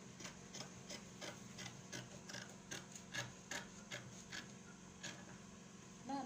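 Fabric being cut for the front of a kimono-style bubu gown, a soft series of rasping scissor snips and rubbing repeating steadily over a low background hum, no talking.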